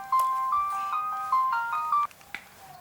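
A telephone ringtone plays a bright electronic melody of short repeating tones for about two seconds, then cuts off, leaving a quiet room.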